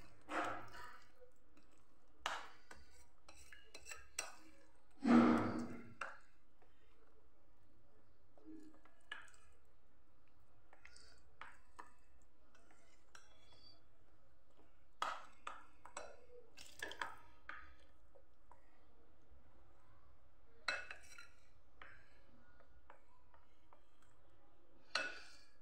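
A spoon stirs semolina and yogurt batter with added water in a bowl, giving sparse, quiet taps, squishes and scrapes with long gaps between them.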